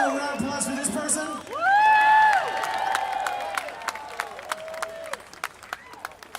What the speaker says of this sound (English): Please, ladies and gentlemen, a round of applause for this person.